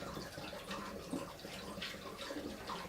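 Liquid pours steadily into a jug while homemade hard cider is being mixed, a continuous splashing gurgle that runs close and moderately loud for the whole stretch, with no talk over it.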